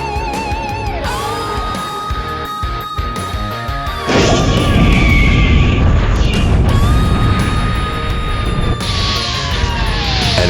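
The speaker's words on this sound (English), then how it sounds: "Energy explodes outward as all remaining power is unleashed" A fan-made Dragon Ball Z energy blast erupts with crashing impacts and rising whines, building into a dense, loud, sustained roar laced with high tonal sweeps.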